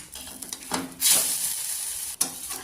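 An egg fries in a pan with a steady sizzling hiss, broken by a few scraping stirs and a sudden louder burst of sizzle partway through, close by with no voices.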